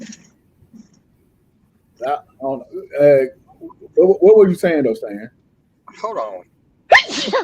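Conversation among several people gives way to one sharp, loud sneeze close to the microphone near the end.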